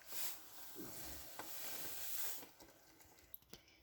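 Granulated white sugar and coconut milk bubble and sizzle in a pan while being stirred for budbud, with soft scraping strokes and a faint, steady simmering hiss that thins out toward the end.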